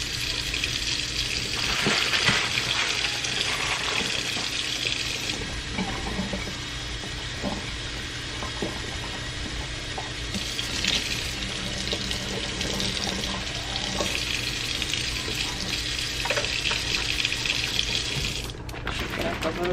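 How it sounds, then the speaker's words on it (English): Steady running hot water from a tap pours continuously into a container, with faint background speech and occasional clinks. "Put some hot water in here."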